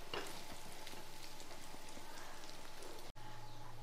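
Dried anchovies (nethili karuvadu) frying in a pan make a steady sizzle with dense crackling and spitting that holds throughout and cuts off sharply near the end.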